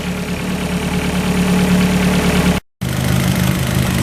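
A Fiat Abarth turbo engine warming up at idle, a steady loud mechanical hum with slight knocking texture, briefly cut to silence before resuming unchanged.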